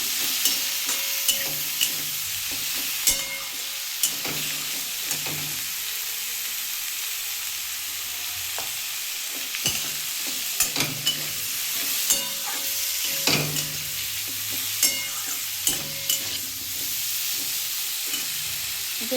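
Fish head coated in turmeric frying in a pan for spinach chachhori: a continuous hiss of hot oil, close and steady, with scattered stirring clanks and scrapes throughout and no voices.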